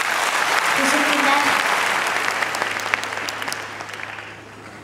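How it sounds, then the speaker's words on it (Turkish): Audience applause at the Yetenek Sizsiniz Türkiye talent show, a steady dense wash of clapping filling the clip and tapering slightly toward the end, with a brief spoken word over it. "O yüzden de alkışlıyorum."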